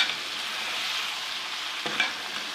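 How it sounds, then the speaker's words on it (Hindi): Chicken coated in yogurt and spices sizzles steadily in ghee for biryani, a dense, even frying hiss close up, with a brief stir scraping near the end and no talking. "अब इसको हम भून लेंगे"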